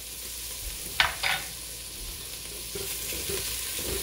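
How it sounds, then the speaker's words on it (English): Vegetables and garlic sweat in a soup pot with a soft, low sizzle. A couple of brief stirring scrapes cut in near the start. "Just gonna sweat these veggies for a little bit."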